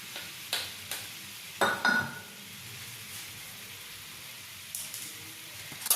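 Salt being stirred into a simmering butter garlic sauce for fish: a few soft scraping strokes around the pan at close range over a low steady sizzle, with quiet gaps between strokes.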